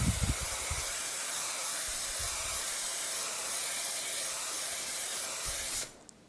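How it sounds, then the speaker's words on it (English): An aerosol can of varnish sprays in a continuous loud hiss for several seconds, then cuts off abruptly, with a few soft thumps near the start. "Shake the can up well and apply"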